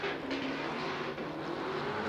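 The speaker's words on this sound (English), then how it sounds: "This Dynasty G37. Listen to that exhaust now." A Dynasty Infiniti G37 race car runs flat out during a Pro 2 qualifying session at Irwindale, its exhaust giving a continuous, steady roar at a moderate distance.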